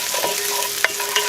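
Garlic sautéing in a pan for arroz caldo de negro, a steady close sizzle with a couple of sharp spatula taps over a faint background hum.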